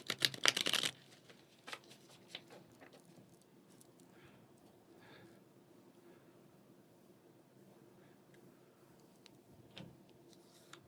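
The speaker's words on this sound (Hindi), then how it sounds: "एक बार और करते हैं डिफरेंट तरह से शफलिंग।" Tarot cards shuffled in a quick, loud riffle burst lasting under a second, then quiet soft handling clicks and faint taps for the rest.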